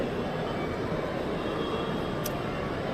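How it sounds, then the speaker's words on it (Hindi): A metro train pulls in at Charbagh metro station in Lucknow, a steady broadband rumble and hiss of the arriving train inside the station, with a brief high squeal near the end. "ये मेट्रो आ गई है, ठीक है।"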